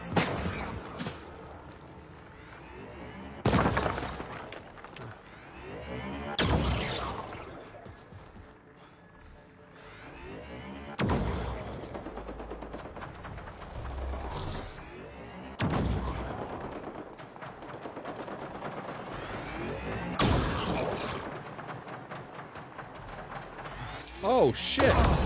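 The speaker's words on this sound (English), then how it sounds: "I don't see where he's shooting from." Video game gunfire with loud, repeated shots and booming artillery-like blasts at irregular intervals, some close and heavy, some more distant, while a player talks over the action.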